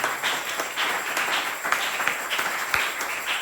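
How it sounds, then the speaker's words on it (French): A church congregation claps and applauds together in a steady, fairly loud wash of hand claps, sustained without a clear break for a few seconds. "Applaudissez pour le Seigneur."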